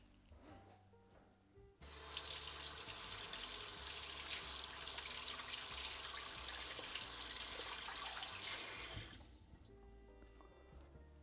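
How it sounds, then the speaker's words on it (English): A kitchen sink tap runs hard while a pack screen is rinsed clean, a loud steady gush starting abruptly after a quiet moment and cutting off near the end. "so I'm going to clean it here in the sink."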